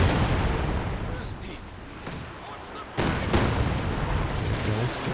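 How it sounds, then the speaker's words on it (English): A Katyusha rocket artillery barrage in the real-time strategy game Company of Heroes 2 lands as a series of booming impacts and rumbling explosions, with a sharp surge about midway, while someone commentates over it. "Katyusha's coming in."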